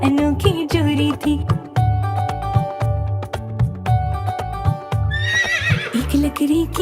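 A cartoonish horse neigh rings out in a Hindi nursery rhyme about a handsome horse and mare, a bright whinny rising near the end over bouncy music with plodding hoof-like beats.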